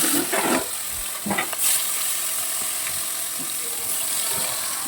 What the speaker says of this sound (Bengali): পোটা মাছটা ধুয়ে হলুদ লবণ মেখে রেখে দিয়েছি একটু সময় তখন একে একে ভেজে নিচ্ছি